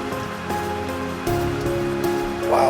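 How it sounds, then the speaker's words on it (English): Heavy monsoon-like rain pours outside during travel in Central America, a steady broadband roar that continues through the whole moment, with some tonal background sound mixed in. "it's like a monsoon outside"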